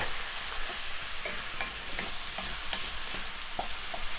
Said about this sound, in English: now just gonna stir that around